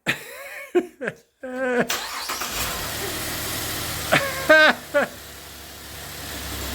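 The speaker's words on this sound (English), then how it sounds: "Mom, start the engine." A GMC SUV, a 2015 Yukon or 2016 Acadia, starts after new spark plugs are fitted: a quick crank catches into a steady close idle, with people talking before and during it.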